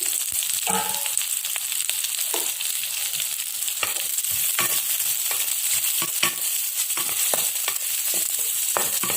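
Onions sautéing in a pan for Kerala-style Palakkadan sambar make a continuous sizzle broken by repeated spatula scrapes and stirring clatter, close and steady with no talking.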